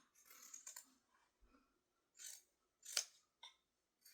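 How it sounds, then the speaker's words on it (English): Scissors trim the fabric top edge of a sewn toddler crossbody purse, giving several short, quiet snips and one sharper cut, spaced irregularly across the quiet. "get your scissors, and I'm just going to trim this top part down."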